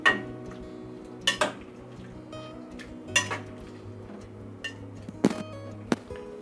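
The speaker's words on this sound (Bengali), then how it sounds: "মশলাটা মিশিয়ে দিচ্ছি" A spoon stirs spices into a pot with about two cups of water for a Bengali vegetarian raw papaya ghonto, giving a few sharp metal clinks and scrapes at irregular intervals, close by over a quiet, steady background hum.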